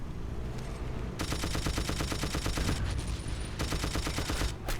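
Rapid automatic gunfire in a video game, two long bursts of sustained machine-gun fire separated by a brief pause, loud and close, with no talking.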